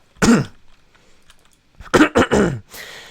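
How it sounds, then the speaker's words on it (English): A man coughs indoors: a single hoarse cough, a short pause, then a rapid burst of three close, loud coughs and a trailing breathy exhale, with no talking. "I apologize for the cough."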